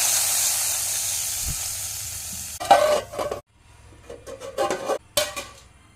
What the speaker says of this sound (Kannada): ಒಗ್ಗರಣೆಗೆ ಎಣ್ಣೆ ಸಾಸಿವೆ ಕರಿಬೇವು ಹಾಗೂ ಹಿಂಗನ್ನು ಹಾಕಿದ್ದೇನೆ